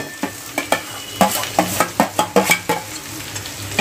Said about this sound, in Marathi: हे सगळी बटाट्याची भाजी आपण यामध्ये घालूया.